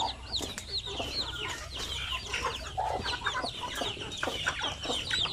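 A mother hen clucks among her chicks, and their thin high peeping chirps rise constantly over the hen's low clucks at close range.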